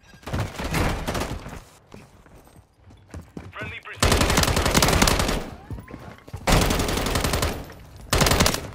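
BAS-B rifle gunfire in Call of Duty: Modern Warfare 3, loud sustained automatic bursts in several long strings broken by short pauses, with in-game voice chatter between them.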